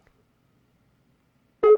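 A Skype-to-phone call gives one short electronic beep near the end, after a long stretch of near silence.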